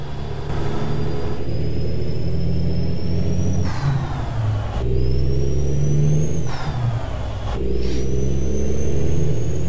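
A truck in American Truck Simulator accelerates from a start, its deep diesel engine rumbling and climbing in pitch through several gear shifts, each marked by a brief dip and renewed rise, loud and close with no talk.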